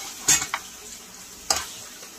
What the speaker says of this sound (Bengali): মাংসটা আমি এখন ভালো করে কষিয়ে নিচ্ছি।